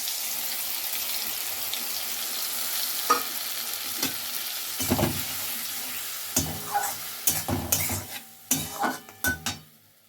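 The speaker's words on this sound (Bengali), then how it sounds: "মশলাটা অল্প কষে নিয়েছি" Spice paste of turmeric, coriander and cumin powder ground with water sizzles steadily in a pan, with intermittent scraping stirs and utensil clatter growing busier toward the end.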